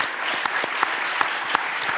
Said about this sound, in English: Can I have one more applause for Priyanka Bista